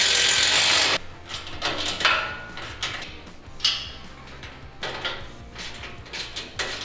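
A hand ratchet clicks in short bursts while bolts are tightened on a Razorback Offroad expedition rack with spare tire carrier, close and fairly loud, with no talking.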